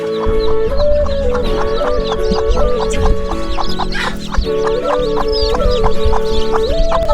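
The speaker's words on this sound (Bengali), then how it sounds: "দেখেন আমার মুরগিটা কিন্তু এই যে বাচ্চার এই যে বাচ্চার কাছে কিন্তু গেছে" A desi naked-neck hen clucks repeatedly and close by beside her chicks, a steady run of short rhythmic clucks over faint background chirping.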